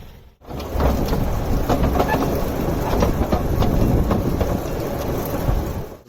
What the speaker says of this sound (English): we're going to isolate Bayhurst and pull the set into the platform with John Rennie.